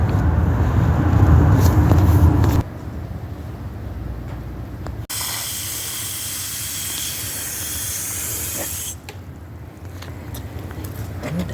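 Potted ornamental kale and pansies are soaked with a hose, the water spraying in a steady hiss that shifts in strength across several bursts.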